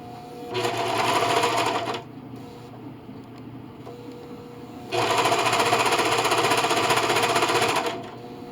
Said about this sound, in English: I'll just take you over to the serger and show you how it's done